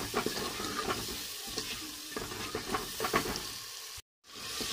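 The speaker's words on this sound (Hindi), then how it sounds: "अब हम इसमें ये टमाटर ये शामिल कर देंगे।" Tomatoes frying and being stirred with spices in a pan while cooking chicken kachnar, giving a steady sizzle broken by repeated stirring scrapes, close and fairly loud, with a brief dropout near the end.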